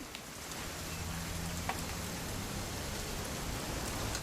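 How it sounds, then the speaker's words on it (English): Steady rain falls throughout in the video game What Remains of Edith Finch, a dense, even hiss with soft scattered drops and no voices. "It's gonna rain the whole weekend,"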